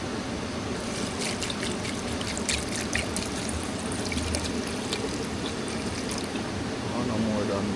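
Water pours and trickles steadily at a riverside camp in the hills, a continuous splashing wash heard close by with faint outdoor background noise.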